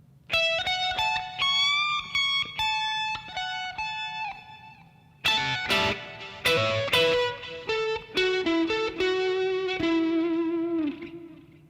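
Electric guitar with effects and light distortion plays a slow lead passage, a run of clear single notes with bends and sustained vibrato tones, a brief gap, then a busier flurry, steady and close with no talking.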